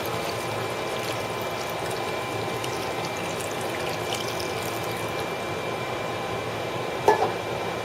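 Beef broth pours into a hot pan to deglaze it for a bourbon beef stew, a steady close splashing and sizzling wash running throughout, with a brief clink near the end.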